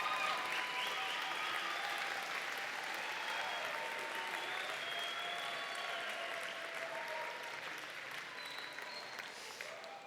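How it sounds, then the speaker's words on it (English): Steady, sustained applause from a large audience at an awards night for a young farmer competition, with faint cheering voices blended in, gradually tapering near the end. "Let's give them a round of applause."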